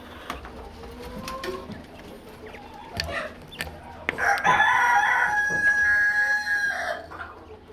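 At Riverview farm, among chicken and quail pens, a rooster lets out one long, fairly close crow in the second half, preceded by short clucks and scattered bird calls.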